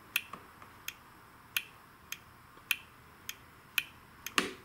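Lawn tractor starter solenoid with a Kohler Courage engine, snapping in crisp close clicks as a switch is flipped back and forth, about nine clicks in under five seconds against a faint hiss.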